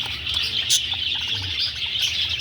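Small birds in a breeding enclosure chirp and tweet over and over in quick, high, overlapping calls, fairly close and steady, with no one talking over them.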